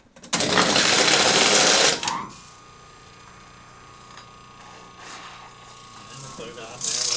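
An electric motor with a bad spot starts up to drive a machine shop line shaft, beginning with a loud, rough grinding burst and then settling into a quieter, steady mechanical hum with faint clanks.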